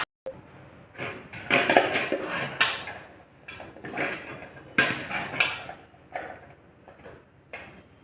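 Mango pieces for pickle are scooped with a tumbler and tipped into a container, giving close clattering, scraping knocks in uneven bursts with short pauses between scoops.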